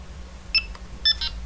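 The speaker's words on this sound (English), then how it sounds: "all you have to do is just hold it down and wait for a beep" Delkim TXi-D bite alarm receiver giving short electronic beeps as it switches to night mode, two close bursts with a quieter one after, crisp and near over a low background hum.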